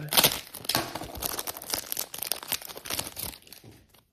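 Foil wrapper of a hockey trading card pack being torn and crinkled open, a continuous close, loud crackling and ripping that lasts several seconds before fading out.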